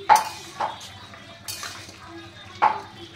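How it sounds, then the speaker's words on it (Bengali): Metal lid lifted off a pot of boiling greens on a home stove, a few sharp clinks and clanks of metal against metal spaced apart, fairly close, with soft bubbling between them. "দেখো ঢাকনাটা খুলছি"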